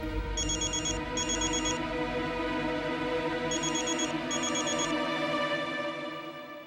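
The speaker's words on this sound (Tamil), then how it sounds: "மாலதி ஃபோன் பண்றா." A phone rings with an incoming call, its electronic ringtone sounding in two paired bursts separated by a pause over a steady background tone, fairly loud and near, with no voices.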